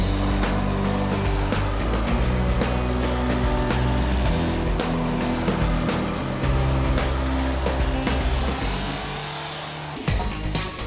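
A Suzuki SX4 with a 1.9-litre Fiat turbo diesel drives along, a loud, steady engine and road roar with wind rush that eases slightly near the end.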